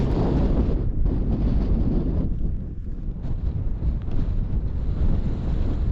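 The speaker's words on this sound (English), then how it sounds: "It is very windy up here." Strong wind roars and buffets the microphone continuously on a Lake District mountain summit, a loud, gusty rumble with no talking.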